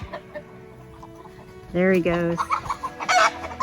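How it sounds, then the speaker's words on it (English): Backyard chickens in their run squawk and cluck in agitated alarm while a falcon lurks nearby, with a loud burst of harsh calls in the middle and more clucking after it; someone speaks briefly. "you can hear my chickens"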